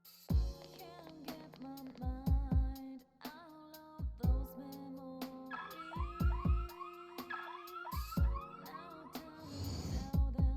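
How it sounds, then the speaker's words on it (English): A police siren effect in the video game Persona 4 Golden sounds as a run of bright electronic tones with rising, wailing sweeps, loud and close, set against plucked game-like notes with no voices. "I heard the siren."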